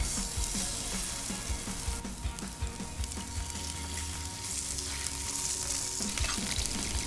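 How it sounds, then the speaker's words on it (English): Mackerel fillets laid skin side down in a hot pan sizzle loudly and steadily, with a continuous crackling fry and a few light pops and scrapes. "So we're going to place the mackerel on skin side down."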